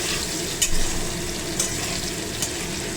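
Potatoes frying in oil in a wok, a dense continuous sizzle with a few sharp utensil clinks against the pan, no talking.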